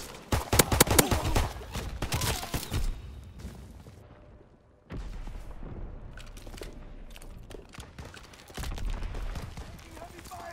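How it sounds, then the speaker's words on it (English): Heavy wartime gunfire in Call of Duty WWII, rapid overlapping bursts and booms loud at first, then a quieter spell and renewed rumbling fire, with voices talking throughout. "Taking heavy fire."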